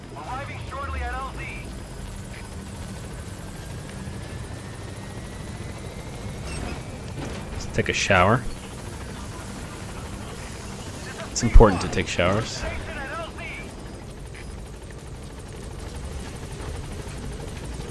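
A helicopter arrives in the video game Metal Gear Solid V: The Phantom Pain, its rotor drone running steadily beneath someone talking, with a couple of brief louder game noises mixed in.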